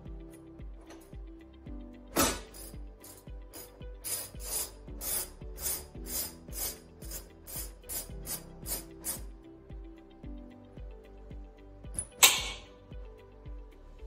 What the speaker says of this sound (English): You can do that with a socket wrench.